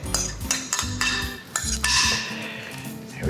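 Food being scraped and spread onto a metal cookie sheet, with a run of close metallic clinks, taps and scrapes in an uneven rhythm, loud and free of talk.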